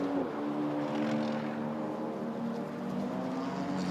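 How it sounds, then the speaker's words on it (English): A TCX race car passes on the Sonoma race track during a TC America race, with a loud, steady engine drone holding a sustained pitch across the whole stretch. "The TCX car's coming through."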